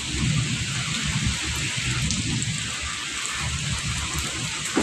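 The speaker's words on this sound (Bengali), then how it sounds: "কিছু অংশে থামলো বৃষ্টিটা" Heavy rain during a Kalbaishakhi storm pours down steadily, a dense close hiss of drops on surfaces with a low rumbling undertone and no pauses.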